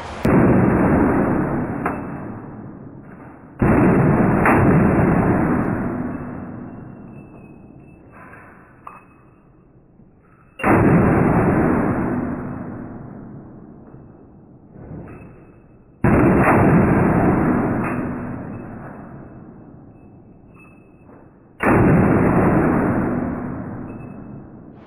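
Walther P1 pistol fired one-handed at an indoor shooting range: four loud, sharp reports spaced several seconds apart, each followed by a long ringing reverberant decay, with quieter handling noises between shots.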